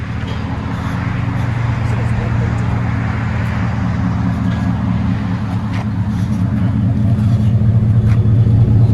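A 2013 Ford F-150 with a 5.0L V8 and true dual Black Widow exhaust idles close by with a loud, steady, deep burbling rumble that holds an even pulse for the whole stretch.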